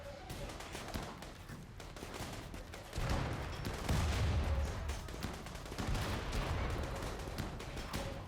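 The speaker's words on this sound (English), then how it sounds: "all of you guys are terrible at shooting" Rapid bursts of gunfire from colonists shooting in the video game RimWorld crackle in dense volleys at moderate loudness, with brief quieter gaps between exchanges.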